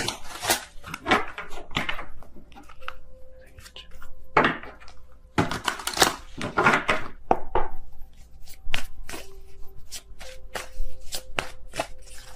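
A Cosmic Slumber tarot deck is shuffled in several bursts of crisp riffling and slapping cards, close by, with quiet pauses between bursts and faint tones in the background.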